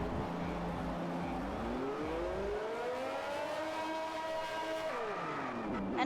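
Race cars roar off the line at the Belgian Grand Prix in F1 2021, engines climbing steadily in pitch through the gears as the pack accelerates away, loud and continuous with no talking.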